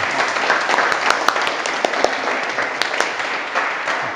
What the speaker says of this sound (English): Please join with me as we give Mr. Gasbarro a round of applause